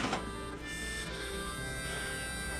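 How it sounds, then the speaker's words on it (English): Ultrasonic cleaner running with a carburetor base plate dropped inside, a steady electronic whine and hum with a brief clunk at the start, close and continuous. "So I got the ultrasonic cleaner warmed up. Drop the base plate in"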